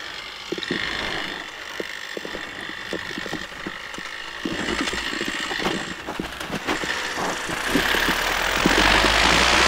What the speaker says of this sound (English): Warming my engine up at the minute